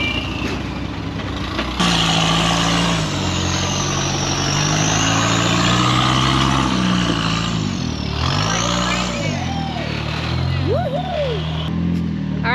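An off-road rig drives out of a rock crack on a Trail Hero 2023 trail, its engine loud and close, revving and rising and falling in pitch, with a tonal whine and some squeaks near the end.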